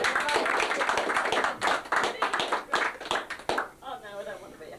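Several people clap together at an 80th birthday party, a dense patter of hand claps that fades out near the end, where voices talk and laugh.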